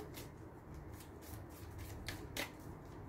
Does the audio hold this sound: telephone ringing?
no